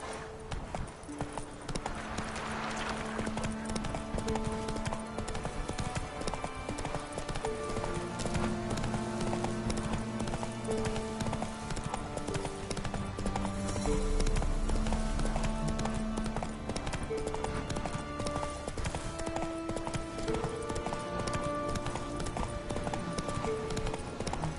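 Roach the horse gallops in The Witcher 3: Wild Hunt, a steady rapid clip-clop of hooves running throughout over a bed of game music.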